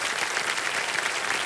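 Studio audience applause on a quiz show set, a brief, steady burst of clapping from a crowd, moderately loud and without talk.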